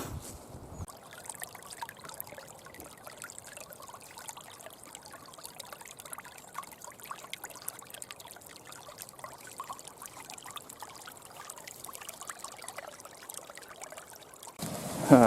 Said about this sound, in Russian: а сегодня вон как пенный ручей